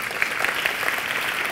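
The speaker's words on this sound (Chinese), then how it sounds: "那讲得好，那请给点掌声" An audience at a TEDxTaipei talk claps in a steady, moderate burst of applause filling the hall, uniform and sustained without cheering.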